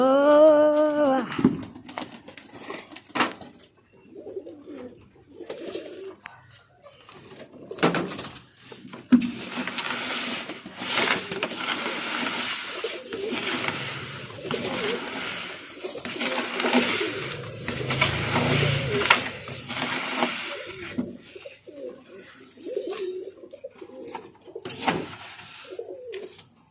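Pigeons cooing in a fancy bird setup, with repeated soft coos and bird calls running throughout, fairly close and steady, with occasional fluttering and light background noise.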